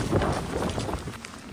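Steady broadband hiss of rain falling at a football game, loud and continuous, with a low rumble underneath and no voices.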